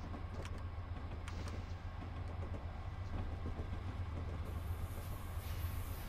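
Passing train in Train Simulator 2019, a faint continuous rumble with rhythmic clickety-clack of wheels and rail noise, no voices.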